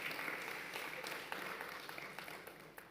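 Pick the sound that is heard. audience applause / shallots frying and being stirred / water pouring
audience applause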